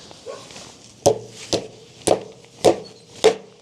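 Five loud, evenly spaced hammer blows drive nails into wood, each a sharp close thud, with no talking.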